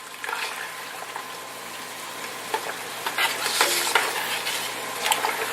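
Sausage cooks in a pot for stuffed sausage banana pepper soup while a utensil stirs and breaks it up, with steady close sizzling and repeated scraping clatters, no voices.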